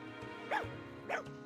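In the video game Fire Emblem Engage, a dog gives two short barks about half a second apart over soft background game music.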